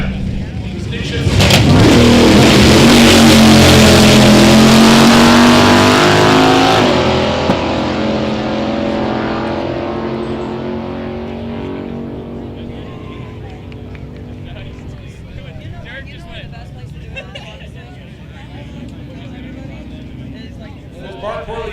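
Drag race cars launching and accelerating hard at Sick Week 2023 in Bradenton, among them a 2006 Mustang, a loud rising engine roar that fades into the distance, with a commentator talking over it.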